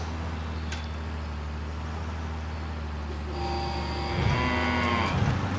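Cows moo in the farming video game Pure Farming 2018. A single drawn-out moo rises near the end over a constant low machine hum, with no talking.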